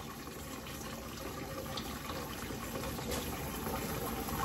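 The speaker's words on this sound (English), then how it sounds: "I'm gonna wash my hands so no cross-contamination will be in this." Water runs steadily from a kitchen tap during handwashing, a continuous close hiss and splash that keeps an even level throughout with no talking.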